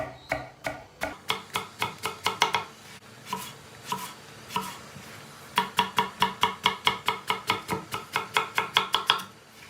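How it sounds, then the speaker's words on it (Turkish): Rapid, steady knife chops thinly slicing eggplant against a cutting board, close by, in two long bursts with a short pause between them. "Bir de doğrarken çok ince doğrayacağız."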